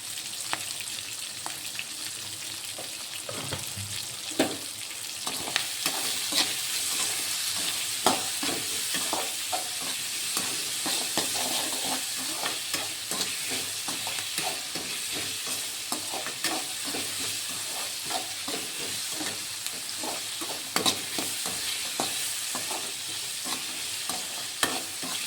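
Salted onions stirred and sauteed in a pan for tempered onion rice, giving a continuous close sizzle with frequent scraping and tapping of the spoon throughout, and no voices.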